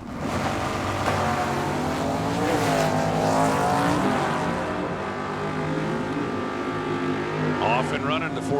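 A Ford and a 1973 Chevrolet Camaro launch side by side at a drag strip, sending up a loud, rising blare of racing engines that sweeps upward and fades, with a voice calling over it near the end.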